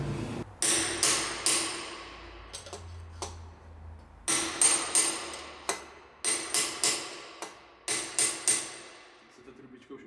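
Sharp metallic hammer blows ring out in irregular bursts, some in quick clusters with pauses between, close and clear, driving a tube against a Kawasaki Z750 motorcycle wheel bearing.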